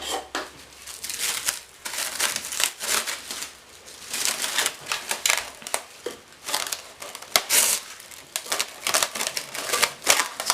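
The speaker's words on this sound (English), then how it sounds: "I'm just going to cover it with a plastic wrap, kitchen towel" Plastic wrap crinkles and rustles in bursts of irregular crackling as it is stretched over a bowl of Cameroonian gateau dough, close up and fairly quiet, with no talking.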